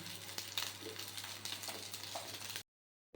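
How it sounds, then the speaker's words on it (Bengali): Potatoes frying in a pan while khichuri is being cooked, a steady close sizzle and crackle with occasional soft stirring, ending abruptly in silence. "আলু নতুন ভেজে রাখছে"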